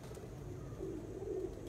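Racing pigeons on a rooftop, soft low cooing heard faintly against a steady background hum, with a couple of brief coos toward the end.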